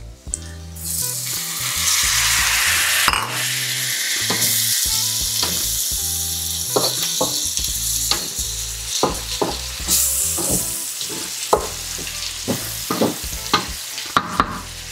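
Creamy pork belly and mushrooms fry in a pan, with a constant loud sizzle broken by irregular clacks and scrapes of stirring, growing sparser and more clattery toward the end.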